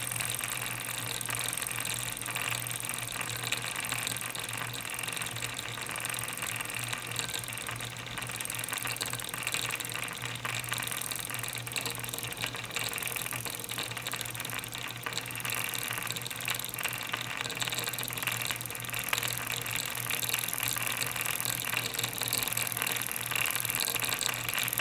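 A Necchi BU Mira sewing machine winds a bobbin with a steady mechanical hum and whir. The sound holds at an even level for the whole stretch, close up and with no talk.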